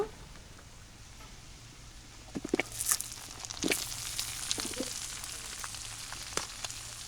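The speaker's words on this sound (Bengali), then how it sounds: "কাঁচামরিচ পেঁয়াজ মরিচ টালা হয়ে গেছে এখন আমি টমেটোগুলো দিয়ে দেব" Chopped tomatoes drop into a pan of frying onion and green chili, setting off a steady close sizzle with a few louder spatters and scrapes as they land. Nobody talks.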